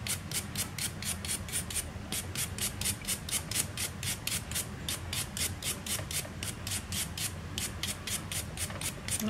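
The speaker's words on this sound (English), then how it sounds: "I'm gonna go ahead and brush off this excess powder." Quick repeated brush strokes sweep excess dip powder off nails, a close soft scratchy rhythm of about three strokes per second that continues evenly throughout with no talking.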